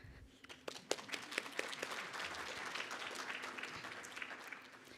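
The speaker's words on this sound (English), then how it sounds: "I'd like the student teachers to take a moment to give yourselves a round of applause" Applause from an audience of student teachers at a fall educator recognition ceremony, a steady dense round of many hands clapping that rises quickly and holds for several seconds, heard alone without voices.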